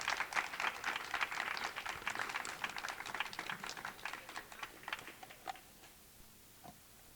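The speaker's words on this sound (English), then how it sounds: "Let's give them a round of applause," Audience applause at a ceremony, a broad round of clapping that starts full and steady and gradually thins out, tapering to a few scattered claps near the end.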